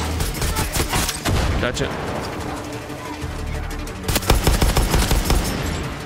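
Rapid automatic gunfire in the Far Cry 6 video game, loud bursts of firing with explosive booms, while someone speaks briefly over the shooting.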